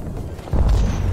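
A grenade in Apex Legends bursts with a sudden, loud, low boom after a brief rumble, close and heavy, then a short decaying tail with no speech.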